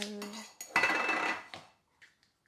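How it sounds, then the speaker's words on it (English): A kitchen knife scrapes crushed garlic across a counter, first with light taps and clinks, then one long, bright, close scrape that fades into a few faint ticks. "I take my knife, give her a little scrape, like so"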